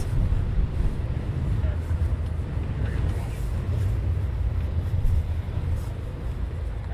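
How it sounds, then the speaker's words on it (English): RAF military jet engines idle before taxiing at RAF Coningsby during a NATO exercise, a steady low rumble with wind buffeting the microphone and faint talk underneath. "You can hear the engines are running"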